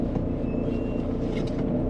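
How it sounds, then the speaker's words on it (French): Cold-running 1998 Renault Mégane Coupé 1.9 DTI diesel engine, a steady, dense low rumble that stays loud and even throughout with no talking. "on n'a pas beaucoup de voitures qui procurent autant de bruit sur un diesel"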